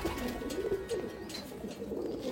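Abluk pigeons coo continuously in a home loft, a low rolling murmur of overlapping calls, close and moderately loud over light background noise.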